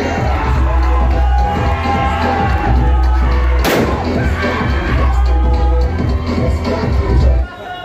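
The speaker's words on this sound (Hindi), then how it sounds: "तालियां और जोरदार के साथ स्वागत करते रहिएगा" Loud crowd noise at an offline coaching centre event in Kota for NEET students, a dense, continuous roar of applause and cheering with low thumps and a sharp bang near the middle.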